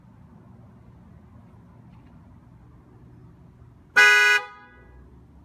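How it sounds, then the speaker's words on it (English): A Tesla car horn sounded remotely from the phone app gives one short, loud honk of about half a second, breaking a quiet low background hum. "you will hear definitely the sound of your horn."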